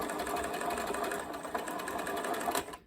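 Sewing machine stitching a dress seam, a close, continuous rapid mechanical rattle that runs steadily and stops abruptly at the end.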